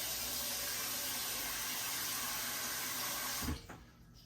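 Tap water runs hard into a pot being filled for boiling chicken, a close, loud, steady rush that cuts off abruptly near the end, leaving only a few faint drips and clatter.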